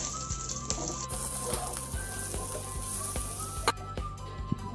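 Ham sizzling in hot oil and butter in a pan as empanada filling cooks, a steady crackling fry with scattered sharp pops and light stirring clicks, close and continuous with no talking.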